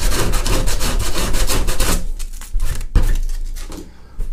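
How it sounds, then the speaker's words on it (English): Sandpaper rubs briskly over a plastic bathtub repair area in fast, loud back-and-forth strokes for about two seconds, then continues in lighter, quieter, intermittent passes. "we're going to hit it with our sandpaper, making sure we're getting in there real good"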